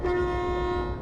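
Train horn sounding in the railway simulation game Derail Valley, a steady sustained tone held for about a second with a low engine rumble beneath, loud and close, no talk.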